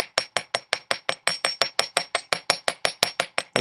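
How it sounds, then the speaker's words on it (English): Rapid, steady metal hammer strikes made with the flat back of a hammer during jewelry beading work, about six blows per second, evenly spaced, close and clear with no talking. "So I'm going to flip to the other side of my hammer."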